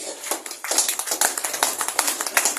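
An audience at a health lecture on diabetes breaks into loud, dense applause, with rapid overlapping claps filling the whole moment and no speech over it.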